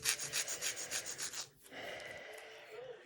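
Nail file rasping back and forth on an acrylic nail fitted to a silicone practice hand, about a dozen quick rhythmic strokes, then a pause followed by a softer, steadier rub.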